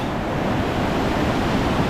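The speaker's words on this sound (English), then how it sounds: "There's the water coming down" Vernal Falls in Yosemite roars as a steady, dense wash of falling water, broad and constant without pause, heard from a bridge on the trail with some wind buffeting the microphone.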